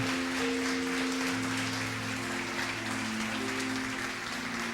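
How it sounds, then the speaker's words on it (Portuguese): Church congregation applauding during a sermon, a continuous broad wash of clapping mixed with steady sustained musical tones beneath it. "alguém pode dar uma salva de palmas para mudar um pouco o ambiente?"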